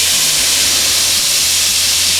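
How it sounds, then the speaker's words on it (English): Loud, steady steam hiss from a pan on the stove as the first step of a lemon sauce for lemon chicken, a dense continuous roar that holds unchanged throughout without talk. "This is going to be the first step of making the lemon sauce. So, and it's going to steam up in here."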